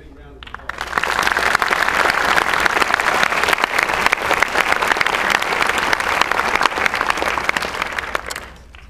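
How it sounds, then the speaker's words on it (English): An audience at a space station crew presentation claps loudly and steadily for about eight seconds, a dense hall-wide round of applause that swells in, holds, and then fades. "let's start off by giving all those folks who make it happen a big round of applause"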